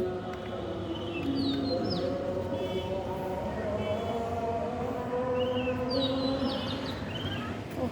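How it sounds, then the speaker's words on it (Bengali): Birds chirp and call outdoors in the Bengali month of Boishakh, their short high tweets coming and going over steady background noise and a low hum, moderately distant. "পাখির আওয়াজটা কি সুন্দর লাগতেছে না"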